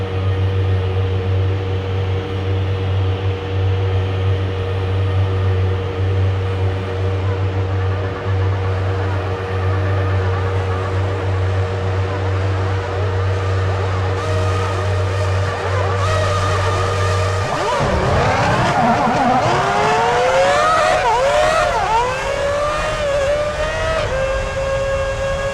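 Race cars in the F1 2006 video game pull away for a parade lap at Hungary, a steady engine drone that gives way to rising, overlapping revving and whining engines, loud and continuous with no talk.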